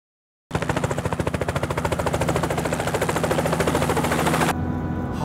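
Helicopter rotor over Lake Ashi in Hakone, a loud, rapid, steady chopping beat heard from inside the cabin, continuous and close, with the pulsing thud dominating throughout.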